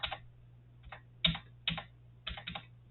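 A computer keyboard key tapped repeatedly while playing Minecraft Hypixel Skyblock, giving about six crisp, close clicks at uneven intervals over a steady low electrical hum.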